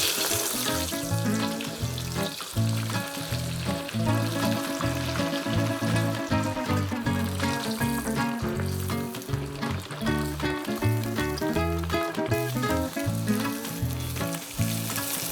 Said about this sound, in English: we can heat up some sunflower oil until it reaches a temperature of 180 degrees. And we are ready to fry.